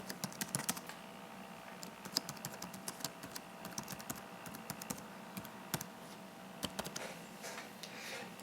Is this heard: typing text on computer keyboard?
yes